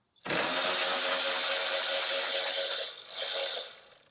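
A VEVOR 3/8-inch cordless electric ratchet in reverse, with a 1/2-inch socket, spins a battery hold-down bracket bolt loose: a loud, close, steady motor whir lasting about three seconds with a brief dip near the end.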